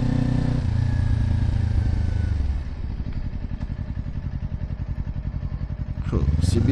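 A large motorcycle engine idles with a steady rhythmic chug, loud and close, then revs up sharply near the end.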